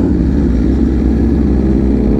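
BMW S1000RR superbike engine running in race mode, a loud close throaty rumble held steady through a short burst without talk.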